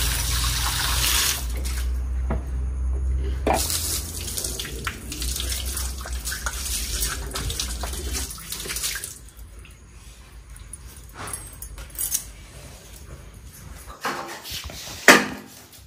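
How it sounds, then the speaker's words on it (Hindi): Tap water runs steadily while hands are washed at a home sink, a loud continuous splash for several seconds that then thins to quieter trickles and a few clattering knocks, with no talking. "अब पहले हाथ पे धो लेते हैं"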